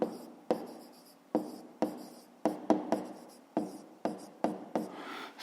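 A pen writes by hand on paper during a fifth-grade math exercise, giving about a dozen quick scratchy strokes with sharp starts and fading tails, close and quiet, with no voices.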